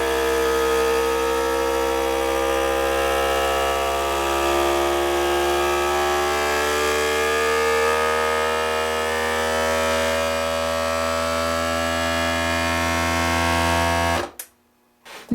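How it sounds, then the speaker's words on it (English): A vacuum sealer pumps air out of a canning jar of dry goods, its motor giving a loud, steady droning whine with rising tones that holds for about fourteen seconds before cutting off abruptly. "You snap that into place, and then you hit the vac seal button on this."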